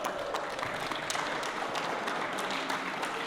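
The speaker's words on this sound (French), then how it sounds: "On applaudit bien fort, les gars." A crowd applauds the winner of a fight after a first-round submission, with dense, steady clapping throughout.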